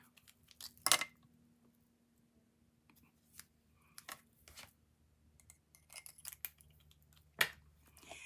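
Scissors snip through paper for a handmade card in scattered, crisp cuts, some single and some in quick clusters, close and quiet against near silence.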